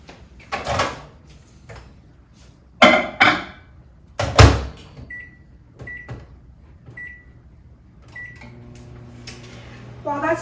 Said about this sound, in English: in the microwave on high power for 1 minute.